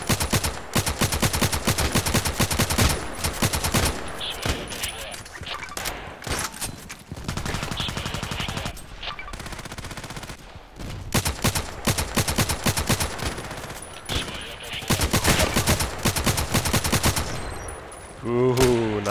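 Rapid bursts of automatic gunfire from the video game Contract Wars, loud and near, in dense volleys with brief pauses, ending in a short flurry of shots.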